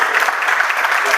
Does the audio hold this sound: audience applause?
yes